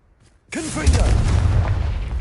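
Confringo spell blast in Hogwarts Legacy, a sudden loud boom after a near-silent start, with a whooshing burst and a heavy rumbling explosion that stays loud and sustained, under a voice casting the spell.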